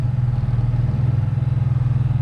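A small engine idles on choke just after starting, giving a loud, steady, close-up rumble with a fast pulsing beat throughout.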